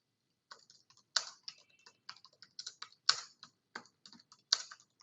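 Keys clatter on a computer keyboard in quick irregular bursts of clicks, close and fairly quiet, with no talking over them.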